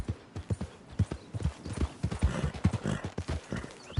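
Horse hooves clip-clop at a steady walking pace in the Red Dead Redemption 2 video game, close and distinct, with a faint whinny-like tone and soft ambient background.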